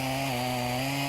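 A stock Husqvarna Rancher chainsaw chugs steadily through wood in a timed cutting contest, a continuous droning engine note held for about a second at moderate level.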